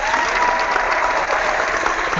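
A studio audience at an online seminar broadcast claps steadily and fairly loudly for about two seconds, a continuous even patter of many hands with no talking.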